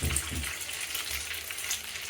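Kebabs frying in a pan on low heat give off a steady, soft sizzle with faint watery crackle, continuous and fairly quiet throughout with no talking.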